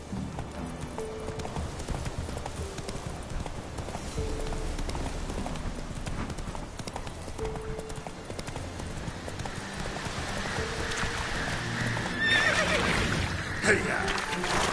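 Roach, the horse in The Witcher 3, trots with steady clip-clopping hooves and lets out a whinny, under game music and a voice talking in the background.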